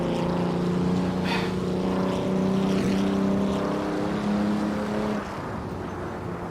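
Engine of an Auto Union C race car in a racing game at the Feldbergring, a steady loud droning roar with a constant pitch that holds for several seconds and then drops slightly near the end.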